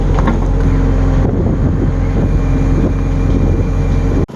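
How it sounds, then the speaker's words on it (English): A uniloader engine runs loud and steady nearby while scooping dirt back into a hole for a winter yard hydrant install, a constant low rumble with windy, cold outdoor noise and a brief dip near the end. "got the uniloader out and I've just been kind of scooping the dirt, the rest of it into the hole"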